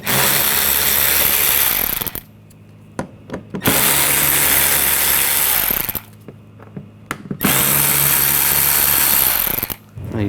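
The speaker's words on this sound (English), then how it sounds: "Use a T20 socket. Take these screws out." A power drill fitted with a T20 socket backs out the front bumper screws on a 2014-2020 Nissan Rogue, whirring loudly in three bursts of about two seconds each, with quiet clicks and handling noises between them.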